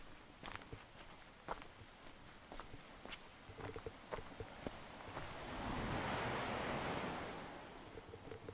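Waves break on a beach at Pointe de Pordic on a morning walk, a soft distant surf that swells louder near the end, with crunching footsteps on a path and light wind.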